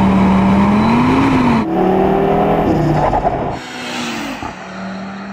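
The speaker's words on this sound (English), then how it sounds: "The unique thing about the RS3 compared to some other hot hatches is the fact that it gets a 5-cylinder engine" Audi RS3 hot hatch with a five-cylinder engine revving hard, loud and close, rising through gears with sharp shifts and gaps, the engine note climbing and dropping in several pulls before settling to a lower drone.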